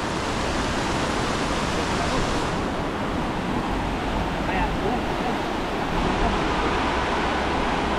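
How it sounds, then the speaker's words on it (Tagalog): Strong floodwater current rushing through a river, a steady broadband roar that fills the whole clip, close and loud, with gusty wind noise on the microphone. "Grabe po yung agos."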